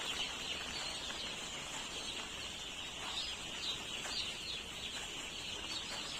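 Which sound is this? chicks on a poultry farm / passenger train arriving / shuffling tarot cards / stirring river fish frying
chicks on a poultry farm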